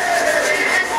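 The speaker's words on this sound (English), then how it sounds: "everybody's very low down here doing all this sanding" Wooden bowls being sanded by hand by a group of workers, giving a steady, continuous rasping rub that stays close and even throughout, with no talking.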